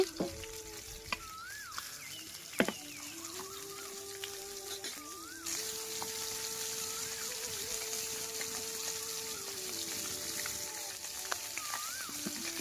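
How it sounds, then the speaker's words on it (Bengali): Shing fish (stinging catfish) frying in hot oil in a home kitchen, a steady close crackling sizzle that swells louder midway, with occasional utensil clinks and faint tonal background sounds. "এখন মাছগুলোকে হচ্ছে ভেজে নিব।"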